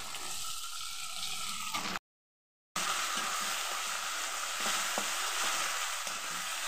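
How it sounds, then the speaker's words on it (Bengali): Ginger and chili frying in a pan of oil for a cabbage ghonto, giving a steady close sizzle with soft stirring scrapes, broken by a brief silent gap before the crackling resumes slightly louder. "আদাটা লঙ্কাটা ভালো করে ভেজে নেব।"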